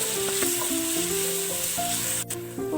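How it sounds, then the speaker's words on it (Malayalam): Small onions sauté with curry leaves in a pan, a continuous bright sizzle heard under a soft melodic music line, with a brief scrape near the end. "ഉള്ളിയൊക്കെ ഒന്ന് വാടി കിട്ടണം"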